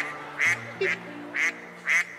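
A duck quacks four times at a steady pace, each call short, nasal and fairly close, over a soft sustained musical tone on a talent show stage.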